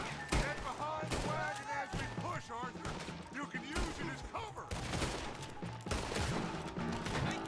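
Gunfire in Red Dead Redemption 2 during a wagon push, with repeated shots rattling through a busy shootout while voices shout and talk over it.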